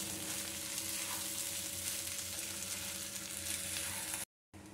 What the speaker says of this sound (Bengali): দিয়ে এবার ভালো করে এটা নাড়িয়ে নিতে হবে।